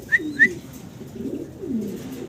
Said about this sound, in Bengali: বিশাল বিগ সাইজের ভিতরে এক জোড়া চমৎকার মুন্ডিয়ান কবুতর আমরা দেখতে পারতাছি